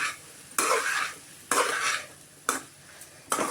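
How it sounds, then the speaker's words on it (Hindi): Vegetables being stirred into masala in a pan, with four separate scraping strokes of a spoon against the metal, close and fairly quiet, with a faint sizzle between them. "अब सारी सब्जियों को अच्छे से हम मिक्स कर लेंगे मसाले के अंदर"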